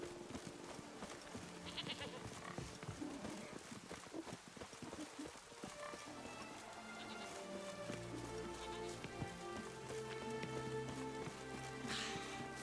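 Rain pours in The Witcher 3 game, a soft continuous patter and hiss running throughout, mixed with sustained tonal music or ambient tones, all fairly faint.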